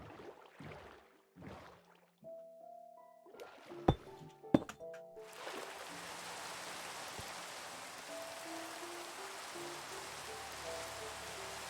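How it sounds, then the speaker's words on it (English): Minecraft rain sets in partway through, a steady hiss of falling drops that follows a few in-game clicks and chimes and then runs on alone at an even level. "looks like we're working in rain"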